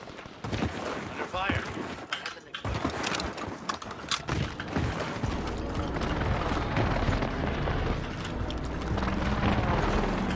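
Airstrike in a Warzone battle, a burst of heavy booming explosions and rapid blasts crowding the first seconds, then a lingering rumble and debris noise under scattered gunfire, with a player talking over it.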